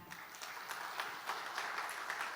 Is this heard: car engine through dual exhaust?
no